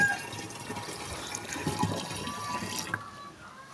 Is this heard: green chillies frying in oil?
no